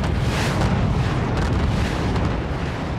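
Cannon weapons firing and shells exploding in the artillery strategy game Forts, a dense, loud barrage of booming blasts that merge into a continuous roar with no gaps.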